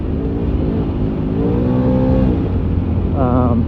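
A Can-Am Maverick Max 1000R XRS side-by-side drives over rough chop at about 30 mph, its engine droning loud and close with throttle surges and pitch rising and falling as it bounces.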